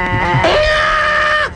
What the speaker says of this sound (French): Latex, fais rentrer les moutons.